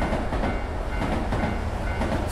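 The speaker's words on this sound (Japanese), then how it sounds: "どうして電車の音がすぐ近くに聞こえる？" A train passes close by in a Japanese horror video game, a continuous loud rumble with rhythmic clattering throughout, with no talking.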